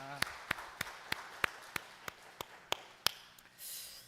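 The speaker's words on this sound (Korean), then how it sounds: "오늘도 우리 예배를 받으신 하나님께 감사와 영광의 박수를 돌려드립니다" Church congregation clapping at the close of a Sunday afternoon service, heard as about a dozen sharp, evenly spaced claps close to the microphone over a quiet room, ending with a soft rush of noise.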